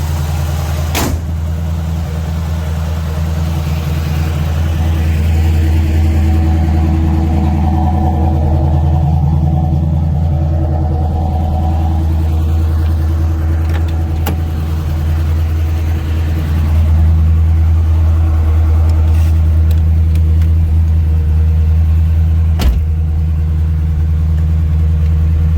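A 1975 Pontiac Firebird Formula 400 with a four-speed rumbles steadily on the road, its low engine drone heard from inside the car with a couple of sharp clicks.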